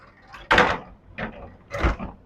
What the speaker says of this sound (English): The divider between the bedroom and the living room is a solid wood door,